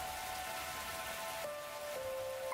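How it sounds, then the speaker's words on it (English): Steady rain in The Hundred Line: Last Defense Academy, a constant wash of falling water on surfaces, even and unbroken, with faint game music tones running beneath it and no talking. "This rain stuff is nothing but trouble. I'm gonna get soaked standing out here."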